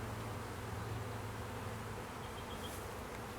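Honey bees buzz steadily at an open hive during a brood inspection with capped cells, a dense close swarm hum holding low and even throughout with no talking.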